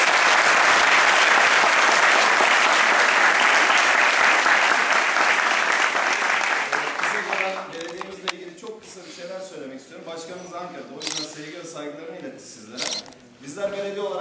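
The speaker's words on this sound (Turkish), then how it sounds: "Ben bunun için öncelikle büyük alkış istiyorum size." An audience applauds after a comedy theatre troupe's performance in Keşan, with loud sustained clapping that fades after about seven seconds into scattered claps and talk.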